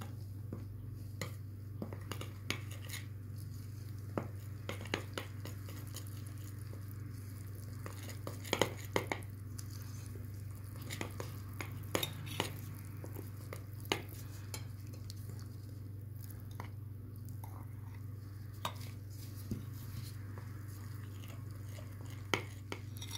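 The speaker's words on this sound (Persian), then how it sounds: "بعد میام آرد رو به تدریج اضافه و مخلوط میکنیم" Flour is gradually stirred into dough for homemade shirmal bread, giving soft, faint scraping and mixing sounds with occasional light clinks against a bowl over a steady low hum.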